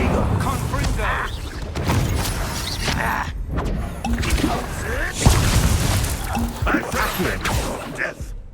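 Confringo fire spells blast and crash in Hogwarts Legacy combat, with repeated explosive impacts, thuds and shattering hits layered over continuous game music and effects and mixed with spoken spell names.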